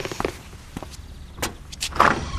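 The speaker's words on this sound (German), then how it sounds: "Mach doch die Tür schon mal auf." A front door is opened at home in a children's show: a handful of sharp clicks and knocks from latch and handle, then a brighter clatter near the end, close and fairly clear with no talking.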